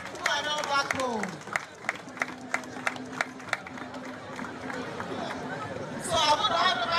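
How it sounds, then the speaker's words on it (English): Festival crowd at the Badagry Diaspora Festival greeting returning kings and queens with scattered claps and cheering, a run of sharp evenly spaced claps amid chatter and babble, building into louder crowd noise near the end. "Please, a round of applause for our kings and our queens who are now back home."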